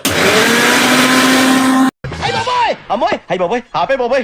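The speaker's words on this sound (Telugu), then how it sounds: "కొంచెం అల్లం పేస్ట్, ఉప్పు వేసుకొని మిక్సీ పట్టుకుందాం" A mixer grinder whirs loudly for about two seconds, grinding a paste of coriander, mint, chili, ginger and salt, then stops abruptly, and someone talks afterward.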